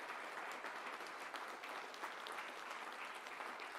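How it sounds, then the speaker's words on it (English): An audience at a tech summit in Bengaluru gives a speaker a steady round of applause. Dense, even clapping continues throughout the clip with no speech over it. "a huge round of applause"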